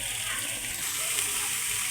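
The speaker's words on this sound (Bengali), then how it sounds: "মশলাটা ভালো করে কষিয়ে নিতে হবে।" Fish roe masala sizzles and fries steadily in a pan as it is sautéed, a close, continuous hiss with no talking.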